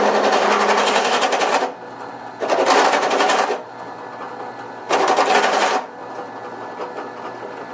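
A Taig micro mill cuts a lead screw nut in three loud, close bursts of a few seconds each, with a quieter hum in the gaps between passes.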